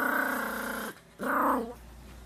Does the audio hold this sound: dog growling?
yes